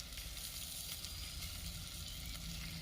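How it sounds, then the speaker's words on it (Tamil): Ingredients for a sundakkai and dried fish kuzhambu sauté quietly in a pan, giving a low, steady sizzle and hiss throughout with no voices. "லைட்டாக வதக்கி விடணும். ஓகே, அப்படியே வதங்கிட்டு இருக்கட்டும்"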